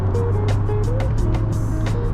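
A Mazda Miata RF with a manual gearbox, driven with heel-toe downshifts, its engine note rising and falling in short rev blips over a steady road and cabin drone.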